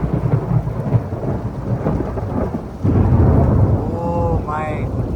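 Loud thunder rumbles low and heavy through steady rain during a sudden storm, with a fresh surge of rumbling about midway and a brief voice-like sound near the end.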